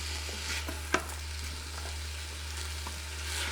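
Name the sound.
beef and vegetables sizzling on high sear saute in pressure cooker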